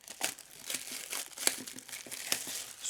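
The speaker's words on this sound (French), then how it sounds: "Sur ce cellophane que je viens de retirer, hop, direction la poubelle directe" Cellophane wrapping peeled from a Hisense Infinity H30 phone box crinkles close up in a quick run of crisp, rustling crackles with small sharp snaps, no talking over it.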